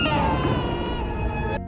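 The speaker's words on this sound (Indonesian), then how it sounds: "berganti dengan suara tangisan Leah" An infant wails loudly and continuously in a horror film, a sustained tonal cry that cuts off abruptly at the end.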